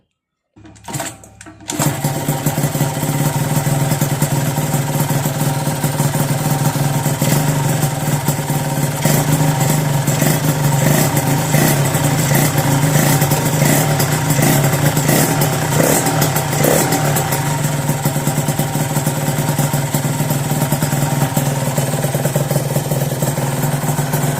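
A small two-stroke Yamaha TZR motorcycle engine starts up after a brief sputter, then idles with a steady, buzzy, rattling drone that holds throughout without much change.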